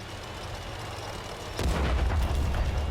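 Artillery shells land during a World of Tanks console match: a steady rumbling battlefield din suddenly jumps into a louder, booming burst of impacts and crackling debris that carries on to the end.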